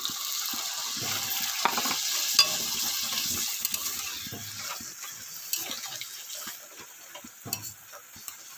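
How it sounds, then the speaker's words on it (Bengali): Fish stirred in oil and a watery spice paste in a frying pan, giving a steady, fairly loud hiss and sizzle with faint intermittent scraping, close by and without talk. "এরপরে যে মশলা বাটা জলটা দিয়ে একেবারে মাছটাকে একটু নেড়ে ঝেড়ে নেব"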